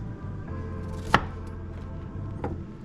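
A knife cuts cauliflower into small pieces on a cutting board. One sharp chop lands firmly near the middle, with a softer cut shortly after, over quiet kitchen background.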